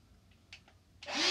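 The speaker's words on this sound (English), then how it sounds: "I vacuum my whole house with this vacuum cleaner" A small Ryobi handheld vacuum cleaner spins up near the end after a few faint clicks and handling noises, its motor rising in pitch into a loud, steady whine.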